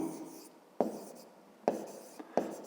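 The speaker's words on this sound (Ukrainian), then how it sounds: "Пишемо на рисунку." Pen or marker writing on a drawing during a fifth-grade geometry exercise, a soft scratchy stroke followed by three sharp taps spaced under a second apart, close and quiet, with no talking.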